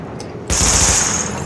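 Automatic weapon fire at highlighted targets during a weapon test in The Division video game: a sudden loud, sustained burst of rapid shots starting partway through, after a quieter lead-in.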